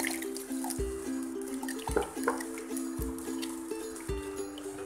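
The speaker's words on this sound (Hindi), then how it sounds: "आधा गिलास पानी हम मिक्सिंग जार में" About half a glass of water trickles into a mixer jar for a spinach chicken curry, making a quiet pour broken by a few soft drips and splashes at a fairly regular pace.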